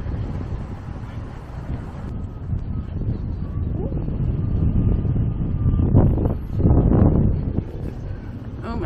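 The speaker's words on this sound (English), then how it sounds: "Oh my goodness, it's so windy." Strong wind in San Miguel de Allende, Mexico buffets the microphone in heavy, rumbling gusts that swell toward the middle and then ease, with faint voices underneath.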